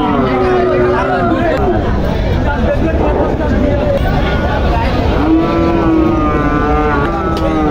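Cattle at a busy cattle market low repeatedly in drawn-out moos, near and loud, over a constant murmur of crowd voices and a steady motor hum.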